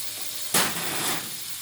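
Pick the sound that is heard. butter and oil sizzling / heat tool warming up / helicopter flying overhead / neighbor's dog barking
butter and oil sizzling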